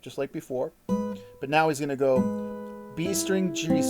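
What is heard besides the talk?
No everyday noise stands out behind the speech.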